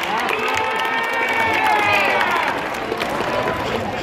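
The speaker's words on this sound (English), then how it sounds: "Let's give her a big round of applause" A school audience at a high school assembly bursts into applause and cheering, a dense, loud crowd wash of clapping and shouts that holds steady across the few seconds, with a voice briefly heard among it.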